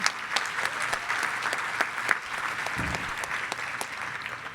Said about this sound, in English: let's just please give all of our runners-up a huge round of applause